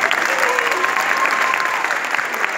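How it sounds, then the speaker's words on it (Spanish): A theater audience applauds magician Sebastián with a steady, dense wash of clapping that holds at full strength for the whole stretch, with no voices. "el mago Sebastián se merece todos sus aplausos"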